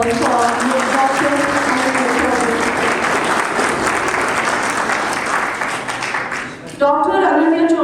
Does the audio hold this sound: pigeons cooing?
no